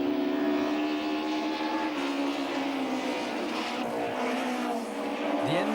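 Touring cars including a Nissan Sentra, an Opel Astra and a BMW race by at close range, their engines screaming continuously at high revs with layered, overlapping whines.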